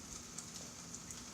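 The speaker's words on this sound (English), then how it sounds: "It's definitely raining." Heavy rain falls outdoors during a hurricane as a steady, dense wash of noise with scattered louder drops striking close by, faint overall and with no voices.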